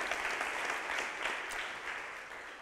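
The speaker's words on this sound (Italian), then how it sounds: "Adesso l'applauso ci sta per tutti," Audience applause at an Italian university event on interdisciplinary research centres, a dense, steady wash of many hands clapping for the whole stretch, fairly even in loudness and fading slightly at the end.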